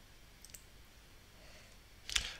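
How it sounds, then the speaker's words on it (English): A single crisp computer mouse click sounds near the end of a quiet stretch as the login button is pressed on a WordPress site, with faint ticks earlier. "I'll click login."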